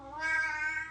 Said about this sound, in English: now my cat wants to go out